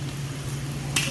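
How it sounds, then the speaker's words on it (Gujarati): Ivy gourd (tindora) frying in hot oil, a steady close sizzle throughout with a brief sharper crackle near the end. "તો આપણે ટીંડોળાને થોડાક ફ્રાય થવા દે તેલમાં"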